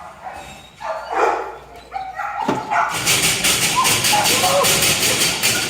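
Dogs bark and yip in the kennels of the Franklin County Humane Society, loud and close, in a growing clamor under a person talking.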